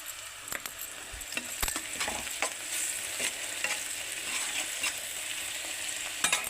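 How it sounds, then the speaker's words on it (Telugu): Vegetables sizzle and fry in a pan with turmeric, a steady crackling hiss under repeated scraping stirs and occasional metallic clinks, close and moderately quiet, with no voices. "ఇంతసేపు పట్టింది ఇవి వేగటానికి"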